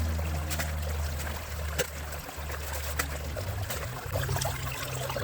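Water runs through a gold sluice box in a culvert at lower than usual flow, a steady close rushing and trickling with occasional small splashes and clicks.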